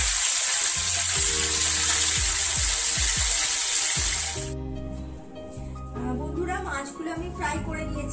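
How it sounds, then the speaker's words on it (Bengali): Fish pieces shallow-frying in a pan crackle with a loud, bright sizzle for several seconds, then the frying fades to softer bubbling while someone talks over it. "মাছটা বন্ধুরা তোমরা হালকা করে ভাজবে, বেশি ডিপ ফ্রাই মাছটা হবে না।"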